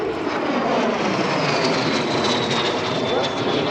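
A jet aircraft in flight at the EAA AirVenture airshow, a steady loud roaring engine drone with a descending whine as it passes close by, with no speech audible.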